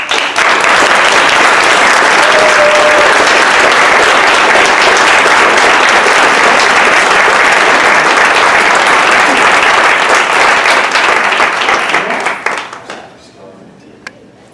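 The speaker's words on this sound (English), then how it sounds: "another round of applause, make them smile" Loud, dense applause from a large audience at a 2019 Live United awards celebration, steady for about twelve seconds before fading quickly to near silence.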